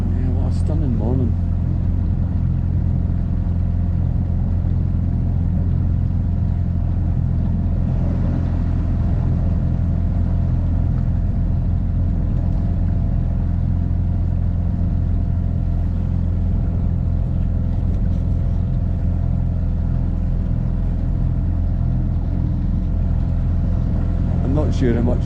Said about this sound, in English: It's quite quiet, quite a quiet engine being a 4-stroke